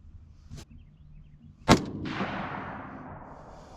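A single sharp shot from a 6.5 Grendel AR rifle fired outdoors, loud and close, with a long rolling echo trailing off, preceded by a faint click.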